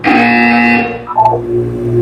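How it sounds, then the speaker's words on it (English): A loud electronic buzzer from the video game Portal 2 sounds, a harsh sustained tone that drops in pitch and wavers before settling into a lower drone, close and alone. "When you hear the buzzer, look up at the ceiling."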